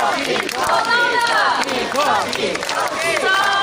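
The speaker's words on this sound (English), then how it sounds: "I need all of you to clap your hands and shout his name." An audience at the Jurong Bird Park High Flyers show amphitheatre claps and chants a scarlet macaw's name in unison: a dense, close crowd with repeated rising shouts and scattered hand claps throughout.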